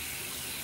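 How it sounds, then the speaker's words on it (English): A brief, steady rush of tap water running into a sink during handwashing, close and even throughout. "Wash our hands."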